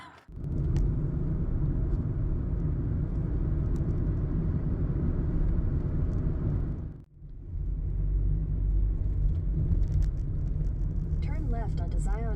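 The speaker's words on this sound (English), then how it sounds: "she's gonna drive us through the hills and the" Car driving through the hills along Ohio's Covered Bridge Scenic Byway: a steady, loud engine and road rumble from inside the vehicle, briefly dipping before resuming, with faint voices.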